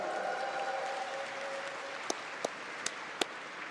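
Audience clapping in the crowd at an esports Dota 2 tournament, the Frankfurt Major, a broad wash of applause that thins out, with a few isolated sharp claps near the end.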